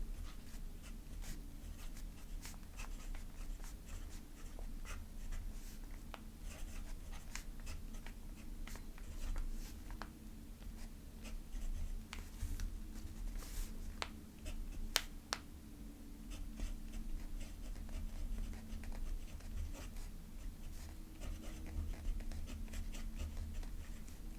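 A fountain pen nib scratches softly across paper in looping strokes, faint and continuous under a steady low room hum, with occasional tiny taps.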